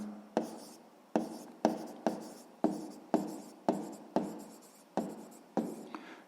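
Pen or pencil strokes writing out a math problem on paper, about nine distinct scratchy strokes at a steady pace, close and quiet with no voices.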